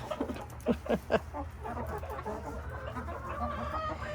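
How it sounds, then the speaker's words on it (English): Chickens on a ranch clucking in a close cluster of short, choppy calls, with more softer clucks and farmyard murmur continuing behind them. "So how long do chickens live for, Megan?"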